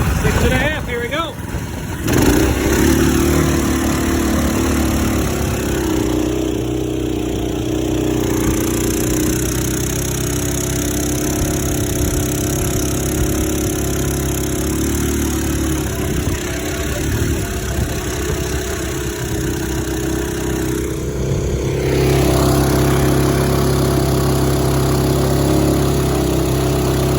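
A 6.5hp 212 engine runs a longtail boat fitted with a weedless prop, a loud, steady mid-pitched drone that revs up and holds throughout, with a slight change in tone near the end.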